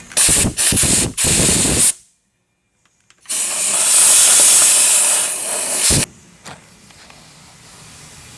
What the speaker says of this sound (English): I'm going to use this handy dandy little air gun.